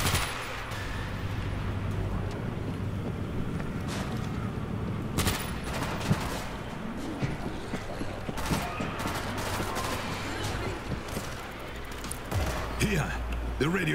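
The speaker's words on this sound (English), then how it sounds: "Machine gun ready." Machine-gun fire in the video game World War Z, set in Moscow, heard as dense, continuous rattling bursts and scattered booms over a busy game-audio bed with voices.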